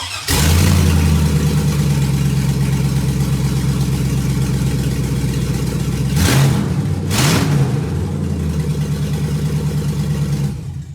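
A V8 truck engine running open headers idles with a deep, lumpy rumble up close, then blips twice in sharp rev bursts before settling back to a heavy idle.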